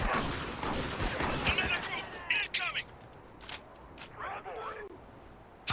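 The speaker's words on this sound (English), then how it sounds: "Heavy fire." Heavy gunfire in the video game Spec Ops: The Line, with rapid, loud bursts of shots up close at first, then scattered single cracks and a few quieter volleys, while voices talk over parts of it.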